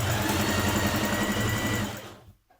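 Sewing machine running steadily while stitching two back pieces of a Simplicity 8602 top together, a continuous close whirring that stops near the end with a brief fade into quiet.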